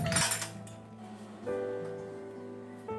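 Cashews dropped into a steel mixer grinder jar for making coconut kheer, a burst of clattering nut hits followed by ringing metallic resonance that decays, then a second clink and ring.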